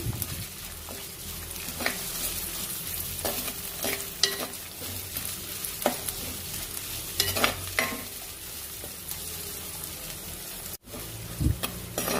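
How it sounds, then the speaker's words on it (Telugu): Chopped onions and two green chillies fry in a pan, a continuous close sizzle broken by scraping stirs every second or so, with a brief clatter near the end. "తర్వాత కట్ చేసుకున్న ఉల్లిపాయలు, తర్వాత కట్ చేసుకున్న 2 పచ్చిమిరపకాయలు కూడా యాడ్ చేసుకొని ఒకసారి వీటినంతా కలుపుకుంటూ వేయించుకున్నాము."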